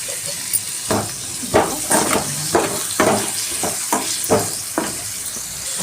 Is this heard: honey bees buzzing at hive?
no